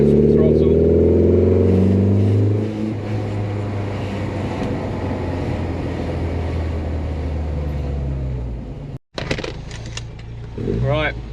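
A Lotus Elan engine on a countryside drive roars under full throttle, loud and rising at first, then settling into a steady drone, with a brief cut and a few voice sounds near the end.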